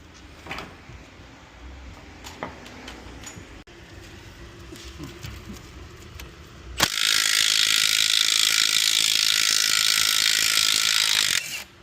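Ratchet clicking while loosening rusty bolts on a Mazda CX-5, close and fairly quiet at first, then a steady loud broadband whir or grinding takes over for the last five seconds.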